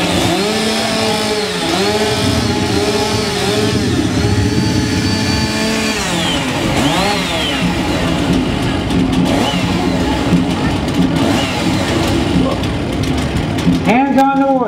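A Stihl stock saw chainsaw revs loud and close during competition warm-up, its engine rising and falling in repeated revving bursts with a crowd and announcer talking underneath.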